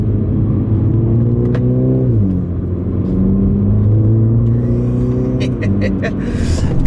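A Mini John Cooper Works GP3 drones loudly from inside the cabin as it corners, engine note dipping sharply under braking then holding steady before dropping again, with road rumble beneath and a voice speaking briefly.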